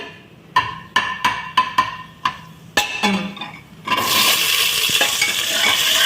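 Onions going into a pan for a spiced rice dish: a run of sharp metallic clinks and scrapes from stirring, then a loud, steady close-up sizzle of frying.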